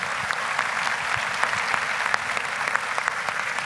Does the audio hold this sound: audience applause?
yes